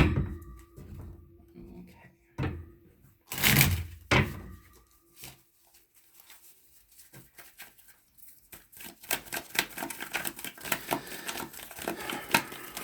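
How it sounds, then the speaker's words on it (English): A deck of tarot cards is shuffled by hand in bursts of sharp riffling and tapping, with quiet pauses between, then a quicker run of crisp card flicks toward the end. "I haven't shuffled these cards yet, and I'm going to do that right now"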